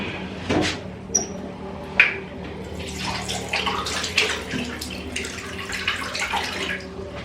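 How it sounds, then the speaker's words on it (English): Water runs from a bathroom tap while someone washes their face with Cetaphil face wash, a steady close splashing stream with a few clinks and knocks of items being handled. "So I use the Cetaphil face wash to wash my face"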